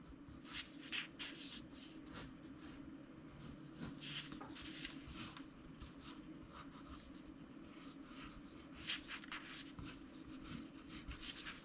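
Pencil scratches and rubs on paper while making animation key drawings, faint soft strokes in quick irregular bursts over a low steady background hum.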